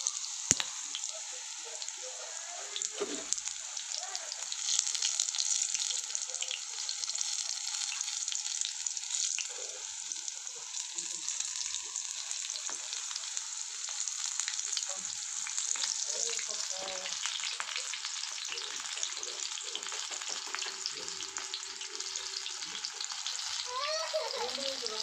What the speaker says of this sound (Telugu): ఇట్లా పక్కకు ఇట్లా మంచిగా ఫ్రై అవుతాయి అప్పుడు.